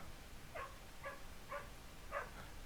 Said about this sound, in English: You hear that? That's a dog.